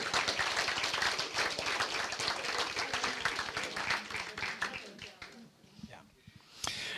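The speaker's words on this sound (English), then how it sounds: "so let's give Janet a big round of applause" Audience applause at a community mystery theater show, dense clapping filling most of the stretch, thinning toward the end with a last few claps and brief chatter underneath.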